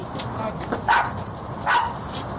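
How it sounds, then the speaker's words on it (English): A guard dog barks twice at a distance, two short sharp barks about a second apart over steady background noise, during an attempted car theft. "The guard dog sets off a 12-bark alarm."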